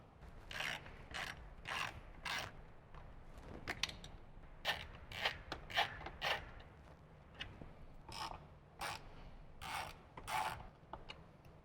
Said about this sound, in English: remove our 4 bolts that attach the top plate to the speaker pod with a